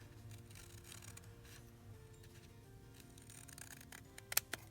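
Scissors trim a paper embellishment made from envelopes and scraps for a junk journal. The room is quiet and faint, then a couple of crisp, close snips come right at the end.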